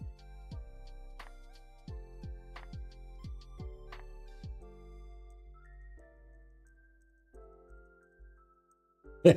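Air traffic control radar software plays a series of short electronic pings and beeps at irregular intervals, clear and close, with a low steady hum underneath and no talk.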